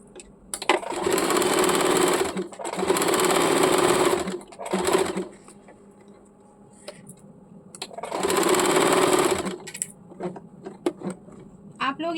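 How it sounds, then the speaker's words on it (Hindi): A sewing machine runs a straight line of stitching on the fabric lining of a baby umbrella frock, in three long, loud, close bursts with pauses between them and speech in the gaps. "अस्तर को उल्टे की तरफ मशीन की तरफ रख के पूरे में एक दाग पे मशीन चला लेंगे।"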